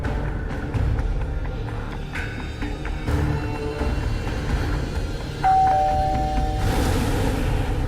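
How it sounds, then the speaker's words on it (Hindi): A doorbell rings once inside a home, a sustained electronic tone standing out over steady background noise, with no talking. "मैं डोरबेल बजाता हूँ"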